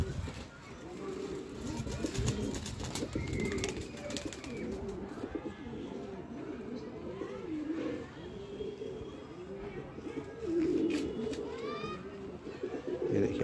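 Green-breed crossbred pigeons coo repeatedly nearby in soft rolling calls, heard clearly under a voice speaking throughout.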